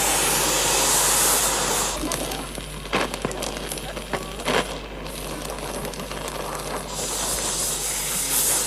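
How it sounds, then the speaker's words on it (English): Metal pieces being welded together, giving a loud, continuous broadband hiss and sizzle with a few sharp clicks and crackles, and faint voices underneath. "You've welded them on crooked!"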